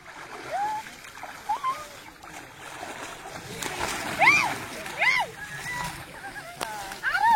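People splash water in a river near Khanivade in Palghar, with bursts of splashing and sloshing, while children shout and chatter nearby.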